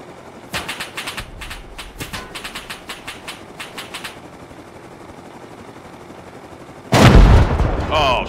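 Rapid bursts of gunfire from the game Rust crack out in a quick irregular string, fairly loud and close, then pause before a heavier, louder burst of shots near the end.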